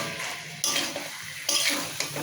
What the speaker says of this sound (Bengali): এবার এটা আমি একটু নাড়াচাড়া করে আর একটু ভাজা ভাজা করে তারপরে নামাবো